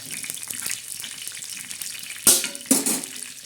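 Curry leaves sizzling in hot oil as a tempering for chana dal chutney, a soft steady frying hiss with two sharp louder bursts of spitting near the end, close up.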